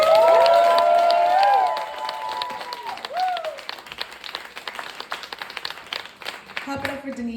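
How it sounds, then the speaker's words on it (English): An indoor theater audience at a post-show talkback breaks into loud applause and cheering for the director, with raised voices and whoops up front, then tapering into scattered clapping and crowd chatter. "Clap it up for Alex Torra"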